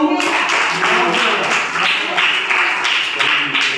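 Audience clapping at a storytelling session, a steady broadband patter of many hands that holds throughout at moderate loudness, with faint voices mixed in underneath.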